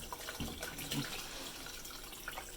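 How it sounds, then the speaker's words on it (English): Hot homemade chicken soup being poured slowly into canning jars, a quiet, close liquid trickle with small splashes and gurgles throughout. "So I'm going to pour this slowly so I don't burn myself."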